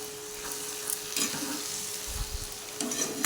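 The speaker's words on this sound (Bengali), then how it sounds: "এবার আমি একটু ভালো করে নেড়ে নেব ধনে পাতাগুলো বাঁধাকপির সাথে একটু মিশিয়ে দিচ্ছি" Cabbage and chopped coriander leaves stirred in a frying pan, a low sizzle under repeated scraping strokes of the spatula, close and fairly quiet, no voices.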